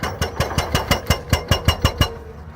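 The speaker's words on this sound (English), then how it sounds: "the excavator swings its hydraulic hammer like a war drum, each strike sending shockwaves down the hillside" An excavator's hydraulic hammer pounds rock on a mountainside, producing a steady series of about ten rapid, evenly spaced heavy strikes, loud and close, over a low engine rumble.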